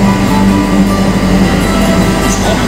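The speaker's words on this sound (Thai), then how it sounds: "บีมแข่งกับรถไฟสีเขียวนะ" Train sound effects from a Thomas the train video game, a loud steady rumbling roll of a locomotive racing a green train, continuous throughout with no talking.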